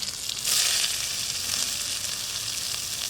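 Chopped onion frying in mustard oil with black cumin seeds, a steady, fairly loud crackling sizzle that swells briefly early on and holds even throughout, with no talking.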